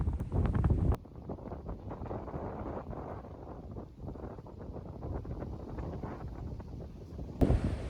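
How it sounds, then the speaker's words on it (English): Steady wind buffeting a microphone on top of Buckeye Mountain, Caney Creek Wilderness, for several seconds, a low rumbling roar with gusts that swell and ease, with no voices. "It's windy and cold though."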